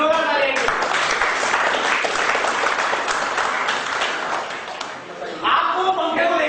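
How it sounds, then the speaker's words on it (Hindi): A live audience at a stage-fear talk breaks into loud, sustained applause, dense clapping running for several seconds, with a brief dip before a renewed burst near the end. "आइए सर, जोरदार तालियां।"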